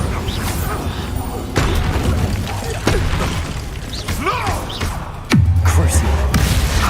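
Bombarda blasting spell from the video game Hogwarts Legacy, a sudden loud burst near the end amid a flurry of other spell effects, crackles and booms, with a voice shouting over the action.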